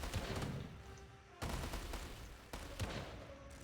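Bombardment gunfire in the video game War Selection: dense rumbling bursts of explosions and shots in a continuous barrage, with sharp restarts around two points, loud and unbroken.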